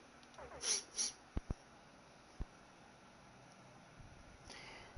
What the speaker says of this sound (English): the cat's beside me, happy as all ever and very quiet. Oh, not so quiet.